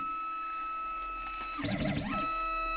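A CGDI Godzilla key cutting machine cuts a HU162T Porsche key blade, with a steady electronic hum followed by a short burst of rising and falling whirring as the cutter works near the end.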